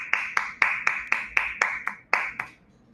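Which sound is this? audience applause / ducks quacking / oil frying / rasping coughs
audience applause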